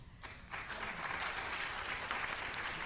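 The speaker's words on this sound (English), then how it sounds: "they all deserve special applause" An audience at an Indian classical dance arangetram bursts into applause, a soft wash of many hands clapping together that swells after a moment and holds steady, heard from a distance in a large hall.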